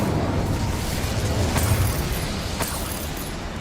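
An Incendio fire spell cast in a Hogwarts video game bursts into a loud, sustained roaring whoosh of flame with a rumbling body and a couple of sharper crackles, easing off slightly toward the end.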